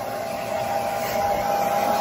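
A hair dryer blows steadily on a damp Shih Tzu puppy's coat, a continuous close whir with a constant whine and no pauses.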